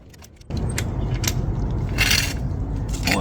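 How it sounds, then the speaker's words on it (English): A floor jack lowers a Mazda 5 during a transmission drain and fill, a steady mechanical rush that starts abruptly and carries on with faint clicks and metallic rattles. "Lower the vehicle."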